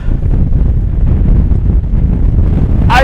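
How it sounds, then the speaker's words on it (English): Strong wind on the exposed moorland of Kinder Scout buffets the microphone with a loud, continuous low roar and gusty rumble throughout, with a brief higher whistle at the very end. "I didn't think it'd be as windy as this."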